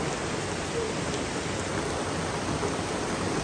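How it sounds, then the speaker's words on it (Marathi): Dense, steady hiss of heavy rain pouring down without pause, loud and close, with no voices. "आणि पाऊस तर बघा बाबा बेकार पडायला लागला"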